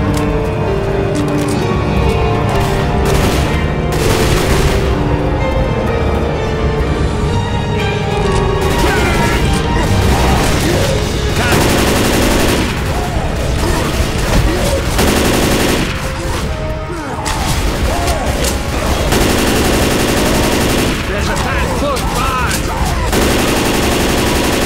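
Rapid gunfire and bursts of automatic weapons in the co-op zombie shooter Left 4 Dead 2, loud and nearly continuous, with shouted voices breaking in at times.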